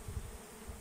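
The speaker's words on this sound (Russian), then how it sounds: "Начинается у нас роение." Honeybees swarming at an apiary during a swarm out of the hive, a faint steady buzzing drone heard briefly and alone.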